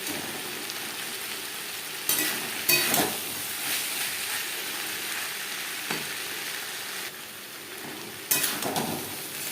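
Snake gourd (chichinga) fries in a pan over a high-to-medium gas flame, giving a steady close sizzle broken by a few brief clattering stirs.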